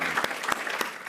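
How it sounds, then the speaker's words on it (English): A university event audience gives a short round of applause, close and dense clapping with a few sharper claps standing out over about a second. "let's give the Heinz College and Dean Krishnan and Professor Gaynor a big round of applause"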